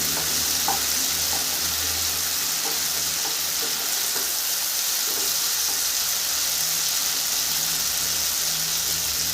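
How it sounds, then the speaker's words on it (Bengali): Tomato and ginger fry in hot oil as prawns and bottle gourd are cooked, giving a continuous loud sizzle with faint stirring clicks. "টমেটো ভাজা হয়ে যাবে, আদা ভাজা হয়ে যাবে।"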